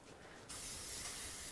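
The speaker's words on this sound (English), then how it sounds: "make sure we spray our pan." Cooking spray hisses steadily onto a baking pan for biscuits, one continuous close burst starting abruptly and lasting about a second, with no talking.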